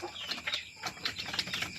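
Native chicken and Plymouth Rock crossbred hens cluck and chirp in quick, scattered bursts nearby, with a faint rustle of movement and no voices.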